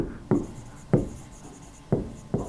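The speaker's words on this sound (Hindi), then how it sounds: "हम लिखेंगे हामिद बीट" Chalk or marker strokes on a board during an Arabic grammar lesson: four short, sharp scrapes spaced irregularly, close and fairly clear, with no talking.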